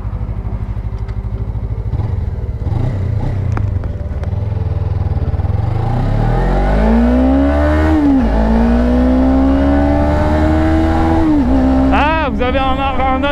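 A Suzuki GSX 250 R's small twin-cylinder engine hums close by, its pitch climbing and dipping through revs and gear changes, with a sharper rising whine near the end.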